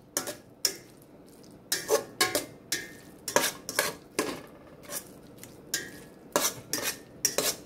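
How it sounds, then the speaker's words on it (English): Green beans stirred in a pot, a utensil scraping and clinking against the metal again and again in irregular bursts, close and fairly loud, with a faint sizzle underneath and no talking. "And then just stir it in"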